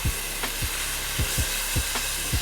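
Garlic sizzling in a hot skillet with vegetables, a steady hissing fry broken by several soft, regularly spaced thumps of stirring.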